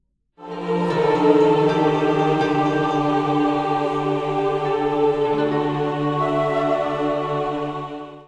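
Sustained orchestral strings hold a rich chord that shifts partway through as the suspension resolves, swelling in and then fading at the end.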